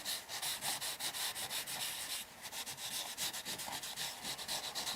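Kitchen towel is rubbed back and forth over cardstock in quick, rhythmic, close scrubbing strokes, a soft papery swish repeating about three times a second with one brief pause.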